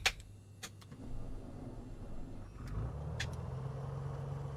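A single-engine Beechcraft Bonanza piston engine cranks on the starter and catches, settling into a steady low idle rumble close by, with a few brief clicks and high whines early on.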